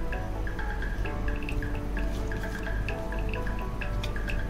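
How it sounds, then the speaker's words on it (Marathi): Water being strained off soaked chillies, a close continuous trickle with rapid small drips and splashes falling steadily throughout. "पाणी मी गाळून घेते."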